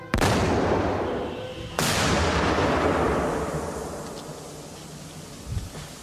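Two powerful explosive blasts from a blast test on an armored car, a second apart, each followed by a long, rumbling roar that slowly fades into a quiet outdoor hush.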